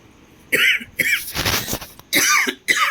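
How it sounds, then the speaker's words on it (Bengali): A woman with a cold coughs in several sharp, close bursts, a few rapid hacks separated by short pauses. "আমারও কাশি হয়ে গেছে"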